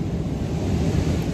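Steady surf washing onto a beach in Bali, a continuous broadband roar of breaking waves with some wind rumble, no voices present.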